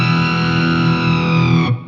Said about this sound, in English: on my snapshots, I have a wild flanger